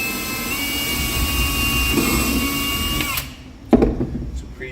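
A power drill whines steadily while pre-drilling screw holes through the gel-coated flange of a shower pan into wood framing, loud and close, then cuts out and a brief clatter follows.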